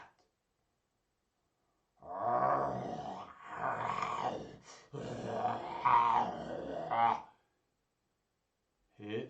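A voice imitates a tiger growling, giving three long rough growls in a row with pauses between, close and loud, then a short burst at the end.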